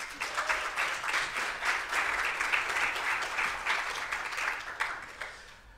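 A conference audience at a press freedom event applauds in a sustained round of clapping, moderately loud and evenly textured, with a few sharper claps near the end.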